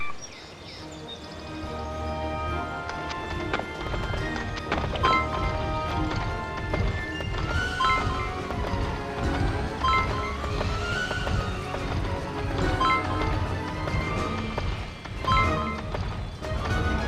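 Horse hooves pound steadily in Barbie Horse Adventures: Riding Camp on PS2, a continuous galloping clip-clop mixed with game music and effects, no talking.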